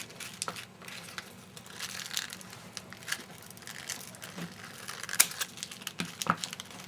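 Scissors snip and crunch through a stiff dollar-store artificial rose to flatten it, giving a scattered series of close, crisp cuts and crackles at an uneven pace, with no talking.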